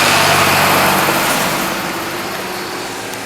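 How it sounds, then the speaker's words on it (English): Farm tractors drive through a cotton field, producing a constant broadband engine drone that stays loud and steady throughout and fades slightly toward the end. "you got tractors coming in with those big"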